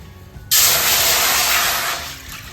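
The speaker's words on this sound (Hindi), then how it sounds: "उसी कटोरी में मैं पानी ले रही हूँ।" Water runs from a tap into a large bowl that already holds rice flour. A sudden, steady hissing gush starts after a short pause, stays loud and close, and eases off slightly toward the end.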